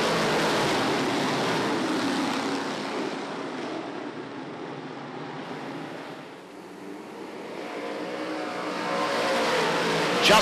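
Race cars roaring around a speedway during a 35-lap feature event, a dense continuous engine roar from the pack that fades slightly midway and swells again, with no talk over it.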